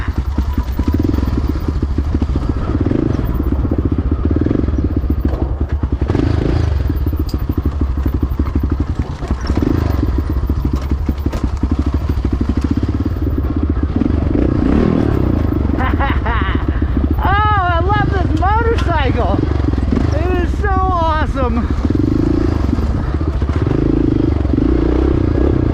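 A Honda XR650R dirt bike rides at speed on trails in Peach Valley, its engine a steady loud drone with rattles, thumps and wind, while a voice talks over it in the latter half.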